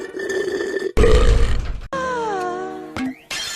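A cartoon female character lets out a loud, long burp, followed by a stretched, wavering belch and a short final gulp-like burst, with no speech.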